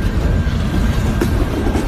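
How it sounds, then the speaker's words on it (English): A train rolls past close by as evening light fades, a steady loud rumble of rail cars with a continuous clatter throughout and no voices. "We've been waiting for this train"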